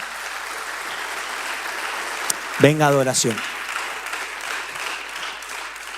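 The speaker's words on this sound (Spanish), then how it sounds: "Dale un fuerte aplauso al Señor." A church congregation keeps up a steady wash of applause for the Lord, with a short spoken phrase cutting through the middle of the clapping.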